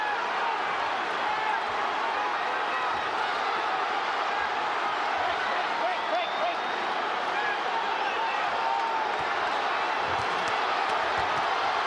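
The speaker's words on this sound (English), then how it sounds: "And the crowd stands and applauds." A large arena crowd at a boxing match stands and applauds, producing a dense, continuous roar of clapping and cheering with a commentator's voice running over it.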